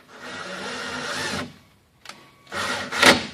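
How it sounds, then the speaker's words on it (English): A power driver runs a self-tapping screw into a solar panel's grounding lug, a close whirring burst, a brief pause, then a second shorter run that ends with a higher whine. "we simply drive the screw in"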